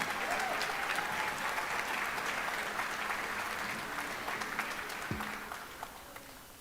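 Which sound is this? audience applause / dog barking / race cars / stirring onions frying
audience applause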